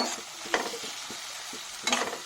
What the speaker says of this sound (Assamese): ইয়াতে মই হালধি পাউডাৰ এইখিনি মই লাহেকৈ এতিয়া ভাজি ল'ম